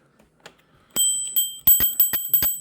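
Bell on a Fluid Vista electric scooter, struck repeatedly: one ring, a pause, then a rapid series of loud, bright, close dings that sustain and overlap.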